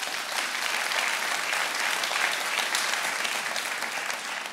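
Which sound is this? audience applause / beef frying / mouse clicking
audience applause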